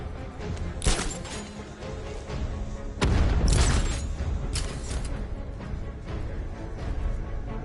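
Grenade blasts in the video game Batman Arkham Knight: several sharp, heavy booms spaced a few seconds apart, with the loudest near the middle, over a constant noisy game background.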